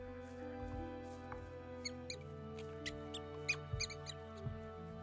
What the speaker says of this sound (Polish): Słyszę gdzieś tutaj jakiegoś szczura u góry.